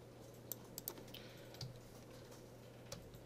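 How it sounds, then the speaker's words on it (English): Someone types on a computer keyboard, making soft, scattered key clicks at an irregular pace over a faint background hum, quiet and close with no speech. "I'm just typing one word sentences and one number, so it won't take very long."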